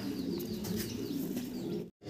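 Fancy long-head pigeons coo in a low, steady, rolling murmur close by, with a faint flutter of wings and a brief drop to silence near the end.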